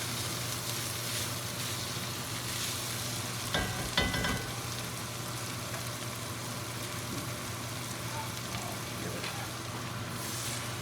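Beef brisket sizzling in a pot as it is stirred, a steady low frying hiss with a few scraping bursts from the utensil, fairly quiet and without talk.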